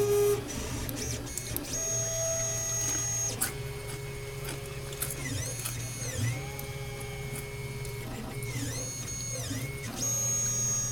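A 3D printer lays down its first layer, with steady motor whine and shifting stepper tones that glide up and down over a constant low hum, close and unbroken.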